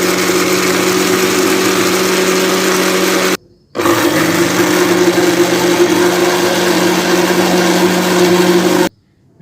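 A blender whirs steadily while mixing two eggs with cooking oil into homemade mayonnaise, a loud close motor drone that cuts out briefly, restarts, and runs on before stopping.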